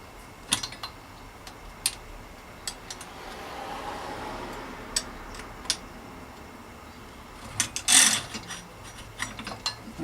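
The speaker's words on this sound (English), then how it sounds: "Let's open up the stem. Slide these bars out." Bicycle stem being loosened and handlebars slid out on a threadless Ahead stem setup, giving scattered faint metallic clicks and ratchet-like ticks with a brief rattling burst near the end, no talk.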